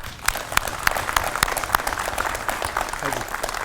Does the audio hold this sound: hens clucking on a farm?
no